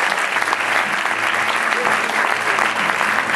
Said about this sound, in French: Merci de l'applaudir très chaleureusement.